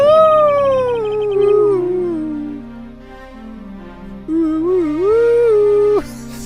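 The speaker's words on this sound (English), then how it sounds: "I think you're supposed to be howling." Drawn-out, wavering dog-like howling from the Ace Attorney Investigations video game, with rising and falling tones over a steady backing, pausing briefly in the middle before a second howl resumes loudly and cuts off.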